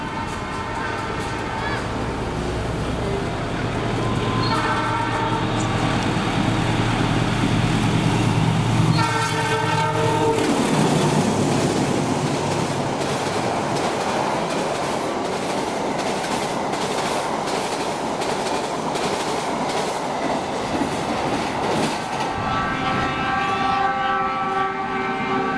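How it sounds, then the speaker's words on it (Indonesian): The Joko Kendil special train passes close by, its horn sounding early, then a loud continuous rumble of wheels and wagons with rhythmic clacking over rail joints that carries on for most of the stretch. "Dan inilah KLB kereta api Joko Kendil"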